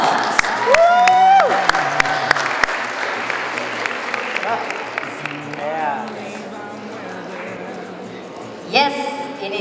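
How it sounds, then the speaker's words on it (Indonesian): An audience at the Indonesian Movie Award campus event at Kampus Esa Unggul claps for a guest, loud sustained applause with some cheering and brief musical tones, fading slightly before a short swell near the end. "Sekali lagi boleh tepuk tangan untuk Mas Emri."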